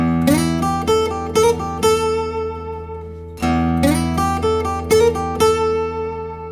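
An electric guitar plays a minor blues lick up the fretboard, with plucked notes and slides in two phrases split by a short pause. It is clear and close, with no talk over it.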